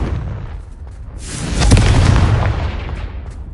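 A Confringo fire spell explodes in the Hogwarts Legacy video game: a single loud, deep boom that swells into a rumbling blast and slowly fades over a few seconds.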